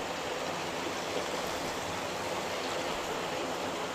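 River water diverted from a weir pours steadily into the inlet of a fish pond used for raising pomfret, a constant broadband rushing with no pauses and no voices.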